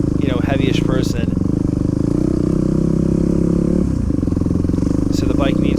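A heavy dirt bike engine held at steady high revs on a trail, loud and close, a continuous droning buzz with brief dips and surges near the start and around four seconds.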